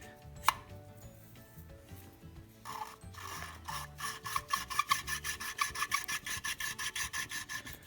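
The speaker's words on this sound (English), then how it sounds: "and we'll grind that seat." A tool grinds an engine valve seat. Faint scraping first, then a run of quick, regular rasping strokes that grows louder and more even toward the end, with no speech.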